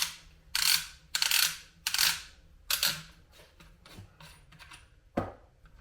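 Unscrewing and pulling off the magazine cap of a Winchester SXP 12-gauge shotgun, heard as a series of close, sharp ratcheting clicks in quick bursts followed by lighter metallic ticks and a final knock.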